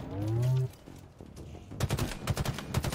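A shotgun fires in Halo Infinite, loud and near, several blasts in quick succession after a short voice-like tone and a lull, with a voice mixed in among the shots.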